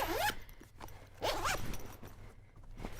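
A zipper on a backpack's front compartment being pulled open in two quick, close strokes, each a rising rasp, with soft handling rustle in between and no talking.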